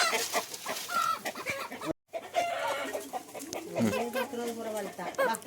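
A chicken on a Mudigere coffee estate in Karnataka clucks in short bursts at close range, with a louder squawk near the end, mixed with someone talking and outdoor background noise.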